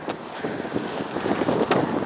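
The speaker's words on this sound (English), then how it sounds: "It's so damn windy, bro." Strong outdoor wind buffets the microphone in a continuous rough roar with gusting swells, heard alone with no voices during a walk on a windy day.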